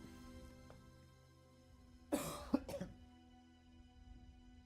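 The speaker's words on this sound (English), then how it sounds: "Not sure if you heard that cough." One person coughs and clears their throat in a few rough, close bursts, around the middle of a quiet indoor stretch with faint steady electronic hum behind.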